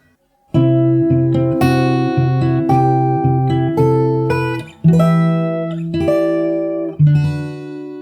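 Fingerstyle guitar plays the closing pass of a passage without the repeating A-string bass note, entering after a brief silence with plucked melody notes over sustained low tones, close and clear.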